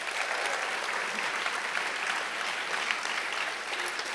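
Sustained applause from a conference audience greeting a world champion pastry chef and chocolatier, dense even clapping from many hands at constant level, no voices on top.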